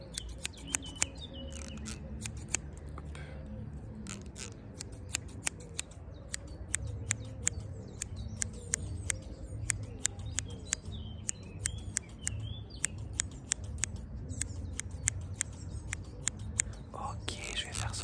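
Scissors snip close by during a French-language ASMR haircut role-play, in quick irregular bursts of crisp clicks over a soft rubbing and whispery background.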